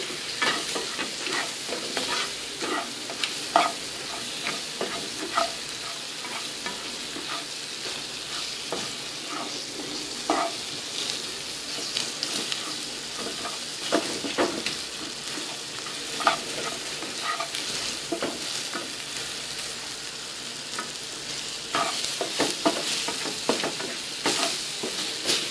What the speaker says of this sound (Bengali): শুটকিগুলো একটু ভাজা ভাজা হয়ে গেছে।